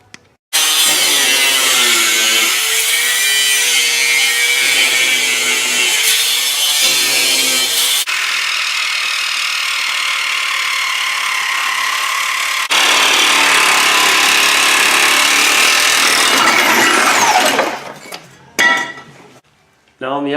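A power saw cuts a part off a Jeep frame, a loud continuous metallic whine that runs steadily for about seventeen seconds with a brief pitch change partway, then sputters and stops.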